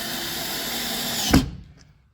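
A power drill drives screws into a jalousie window frame, whirring steadily at close range, then speeding into a brief sharp burst before cutting off into silence.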